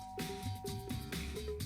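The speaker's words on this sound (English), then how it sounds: "Ding dong." Doorbell chimes sound repeatedly in the video game Danganronpa: Trigger Happy Havoc, a quick series of clear electronic ding-dong tones over a low steady background.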